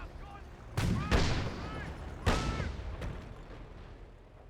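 An artillery barrage lands in Company of Heroes, with several loud booming explosions in quick succession, each followed by a rumbling decay, over battlefield ambience.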